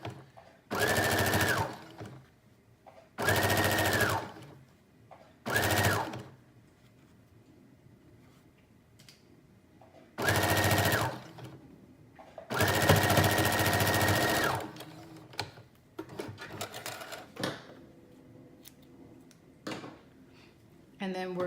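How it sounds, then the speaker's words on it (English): A sewing machine edge-stitches a pocket on a teddy bear jacket in several loud, steady bursts of whirring stitching, separated by quiet pauses and a few small handling clicks. "we're gonna go ahead and finish edge stitching this pocket"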